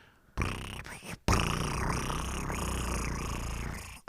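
A person imitates a cat's purr with a steady, rolling throaty rumble lasting a few seconds, after a short breathy start and a brief pause.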